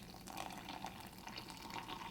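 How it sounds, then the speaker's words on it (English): Hot water pours from a kettle into an AeroPress coffee maker, a continuous soft splashing trickle, close but fairly quiet, with no voices. "The next step is take your hot water"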